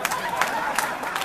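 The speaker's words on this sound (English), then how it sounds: "Now let's give a nice round of applause" Patrons at the Kingston Mines blues club in Chicago applaud, with steady clapping mixed with crowd chatter and a few sharper claps standing out.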